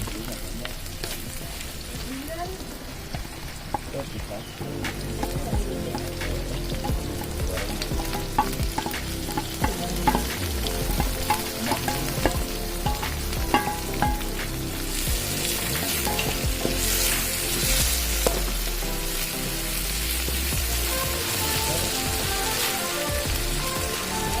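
Binahong leaves stir-fry with anchovies, chili and leek in a pan, a continuous loud sizzle broken by repeated scraping and clinking of the stirring utensil, the frying swelling louder partway through.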